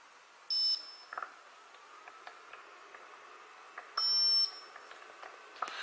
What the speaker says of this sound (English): The buzzer will beep 3 times.